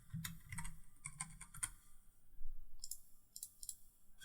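Someone types on a computer keyboard while making a quiz in Canva, giving short clusters of light, close key clicks with brief pauses between bursts.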